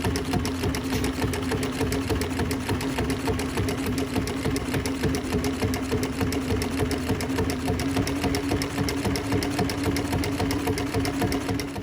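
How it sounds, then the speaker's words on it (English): A sewing machine stitches a canvas wrench pocket on a tool roll, running continuously with a fast, even mechanical clatter and a steady hum at close range. "same thing with the wrench pocket here, but I'm only stitching the top"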